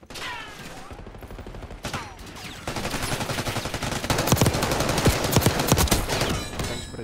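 Jackal SMG gunfire in the Black Ops 6 beta, rapid automatic bursts that build into sustained loud shooting with sharp repeated cracks and some overlapping shots.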